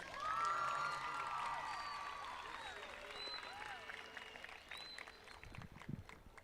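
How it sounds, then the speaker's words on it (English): A high school commencement crowd claps and cheers for a student graduation speaker, a broad outdoor-sounding wash of applause with scattered whoops that gradually thins out, while a voice carries over the top. "Let's go give her a round of applause again,"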